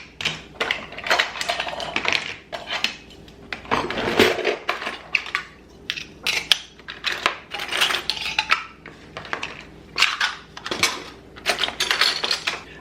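Kitchen utensils and small jar lids clatter and clink as they are sorted during decluttering, a busy run of close, irregular metallic and plastic knocks with no talking.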